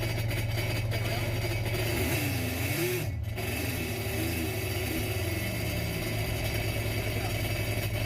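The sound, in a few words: Sea-Doo Switch jet boat engine revving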